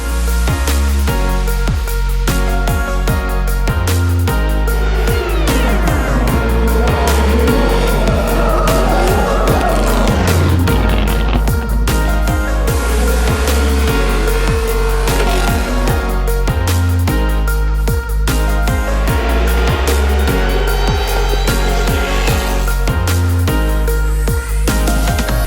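Drift cars launch from the line at a Riyadh drift event, engines revving hard and bouncing off the limiter over and over while tyres squeal through long slides, loud and close for the whole stretch.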